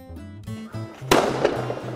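A flying firecracker goes off in a video game, one sharp crackling burst that cuts in over bouncy game music and then fizzles into a hissing tail.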